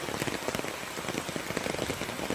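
Heavy rain pours steadily onto flooded, waterlogged ground near a doorway, a dense, close patter and splash with no talking.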